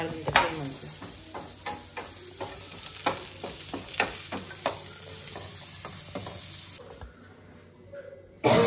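Onion and garlic frying in a pan for Mangalore-style clam sukka, with a steady sizzle and repeated scraping stir strokes throughout, ending in a sudden near-silent pause.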